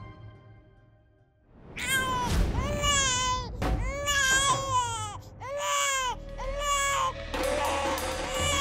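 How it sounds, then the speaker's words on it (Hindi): An infant wails repeatedly in a home during a Hindi TV drama scene, with rising and falling cries in a steady run of close, loud bursts that start after a quiet opening and continue to the end. "घर में बच्चे की रोने की आवाज।"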